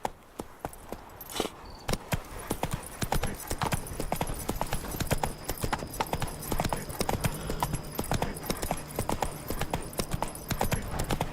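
Roach, Geralt's horse in The Witcher 3, trotting in a steady, close clip-clop of hooves with a brief whinny early on, over soft game ambience.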